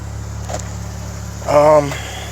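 A tuned Dodge Challenger V6 idles with an upgraded exhaust, giving a steady low rumble throughout, while a voice briefly speaks near the end over the engine.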